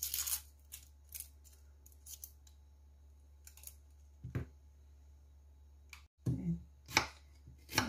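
Onion being sliced finely with a knife on a board for malunggay spring roll filling, a few sparse crisp cuts with pauses between them and a couple of louder chops near the end, close and alone.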